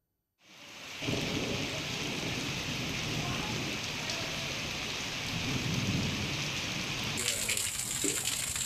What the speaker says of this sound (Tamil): காலை முதலே பலத்த காற்றுடன் கனமழை பெய்து வருகிறது